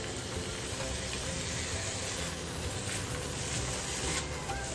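Dried shrimp stir-fry in hot oil, a steady close sizzle and hiss holding at an even level through the whole stretch, with no talk over it.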